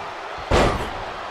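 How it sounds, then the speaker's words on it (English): A wrestler is slammed into the turnbuckle corner in the WWE 2K24 wrestling game, heard as one sharp, loud thud with a short rumbling tail over steady crowd noise. "And he sends him into the corner."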